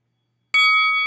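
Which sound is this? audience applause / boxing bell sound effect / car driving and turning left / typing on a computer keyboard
boxing bell sound effect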